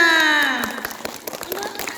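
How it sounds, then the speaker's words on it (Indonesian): Audience at a school event applauding a class 4 performance, scattered claps starting as a tonal voice or musical note fades, then continuing lightly and unevenly at a moderate distance. "Terima kasih penampilan dari kelas 4. Tepuk tangannya."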